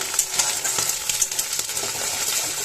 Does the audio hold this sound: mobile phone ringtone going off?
no